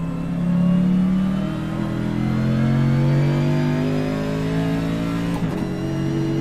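A race car engine holds a steady high-revving drone during a lap, its pitch gliding slowly upward and then easing, loud and close with no talking.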